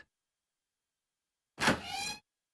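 A door in the video game 999 slides open with a single short mechanical whoosh and hum after a long silence, close and clear with no talk.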